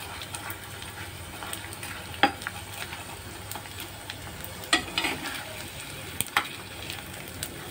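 Edible gum (dink) fries in hot fat in a pan for fenugreek laddus, a soft steady sizzle with a few sharp spoon scrapes and clinks as it is stirred, fairly quiet and without speech.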